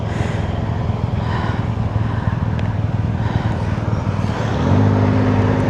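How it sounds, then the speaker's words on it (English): A car on a road, engine rumbling steadily nearby, its low hum growing louder and more tonal toward the end as it approaches, with no talking. "I'm just going to stop for this car."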